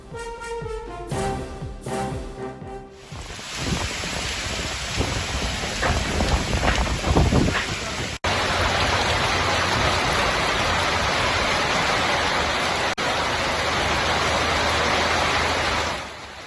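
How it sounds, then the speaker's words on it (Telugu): Heavy southwest monsoon rain pours down in Kerala, a dense, steady roar that stays loud and continuous throughout, after a brief musical opening. "నైరుతి రుతుపవనాలతో కేరళలో విస్తారంగా వర్షాలు కురుస్తున్నాయి"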